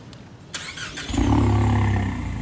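A car engine cranks and catches, a short starter whir followed by a rising, rumbling idle that stays loud and steady to the end.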